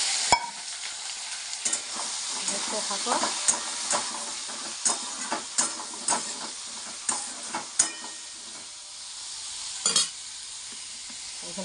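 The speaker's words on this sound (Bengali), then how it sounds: "এই দেখো এখন সোয়াবিন ভাজা চলছে" Soybean chunks fry in a pan with a constant sizzle, broken by repeated scraping stirs, while someone says a few words nearby.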